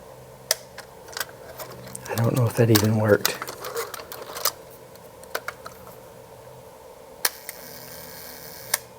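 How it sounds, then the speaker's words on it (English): A film camera set to a very slow shutter gives sharp isolated clicks spaced across the clip and a brief burst of mechanical whirring and rattling, with someone speaking softly over part of it. "I've got it set on a very slow shutter so you guys can see it."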